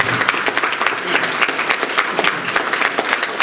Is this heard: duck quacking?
no